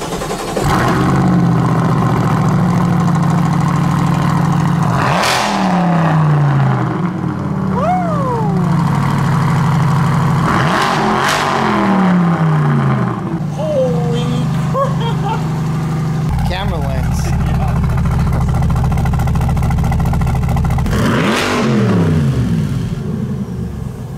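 Corvette C8 fitted with an ARMYTRIX valvetronic catback exhaust starts up and idles, then delivers several sharp, loud rev blips that rise and fall back to idle, spaced a few seconds apart.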